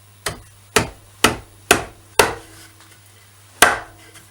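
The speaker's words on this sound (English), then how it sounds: "you want to almost be able to have to hit it on with a hammer" Six sharp, hard hammer blows knock a wooden bowl snugly onto a glue chuck on a lathe, close and loud, landing at a steady pace with a short pause before the last strike.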